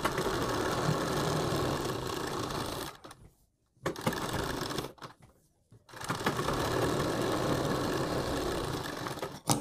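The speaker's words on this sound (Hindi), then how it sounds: "अब इसके बराबर में एक सिलाई लगाकर अपने पैटर्न को तैयार कर देंगे।" Close sewing machine stitching fabric alongside buckram for a kurti neck design, running in steady loud whirring bursts with two short pauses where it stops and restarts.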